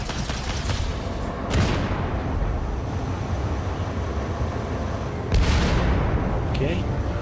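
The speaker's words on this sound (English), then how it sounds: "Oh, he's shooting at us already." Spaceship gunfire in Star Citizen, with two sharp heavy blasts a few seconds apart over a constant engine rumble, loud and close, with talk alongside.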